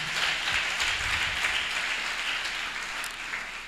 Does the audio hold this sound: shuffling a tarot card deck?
no